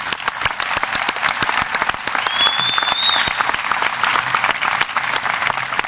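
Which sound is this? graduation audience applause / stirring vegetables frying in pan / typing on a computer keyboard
graduation audience applause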